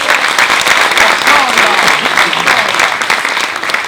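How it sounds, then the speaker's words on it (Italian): An audience in a theatre applauds loudly, dense steady clapping from a crowd at a live Italian comedy stage show, with some voices mixed in. "un grosso applauso"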